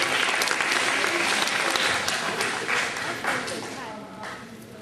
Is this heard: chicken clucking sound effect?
no